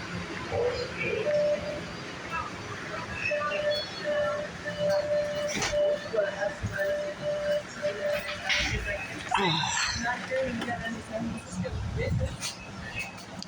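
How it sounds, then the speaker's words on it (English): A subway train rolls between Back Bay and Forest Hill, giving a continuous rumble with a tonal whine and clanks, while people talk and announcements play over it throughout. "The destination of this train is"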